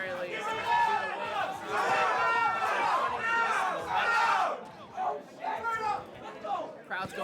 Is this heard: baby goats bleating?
no